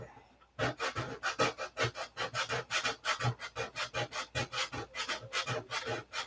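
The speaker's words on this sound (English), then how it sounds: "So you got to keep sanding until you can't feel it." Hand sanding of fillets, a steady back-and-forth rasp of abrasive on a smoothed seam, with rapid rhythmic strokes repeating close up and evenly, no talk.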